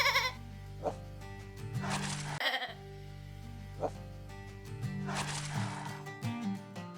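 Cartoonish sheep bleats from a dog-herding shepherd video game, several separate bleats at irregular intervals over a steady musical background, loud and close.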